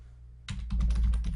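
A few quick keystrokes on a computer keyboard tap out a short search after a moment of quiet, close and crisp with no speech.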